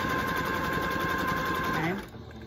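A sewing machine running steadily while stitching lining fabric, a fast even mechanical whir with a rapid needle rhythm that slows and stops near the end, with faint voice underneath.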